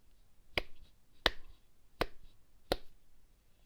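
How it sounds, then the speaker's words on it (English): Four sharp recorded hand claps played back from a sample in the Bleass Groovebox app, evenly spaced about two-thirds of a second apart, each crisp and isolated over a quiet background. "I have recorded my hands clapping"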